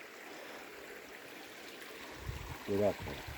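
Small mountain stream flowing outdoors beside a mosque near a healing-water spring in Sürmene, a soft continuous rushing trickle, with a brief burst of a voice near the end.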